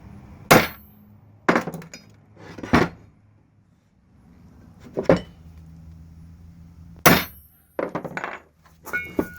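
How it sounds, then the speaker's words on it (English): A hammer strikes a center punch to make dimples in a Mopar spindle sleeve, with six sharp metallic taps spaced apart by quiet gaps, close and loud. "Take your really good center punch right there. Make your little dimple in there."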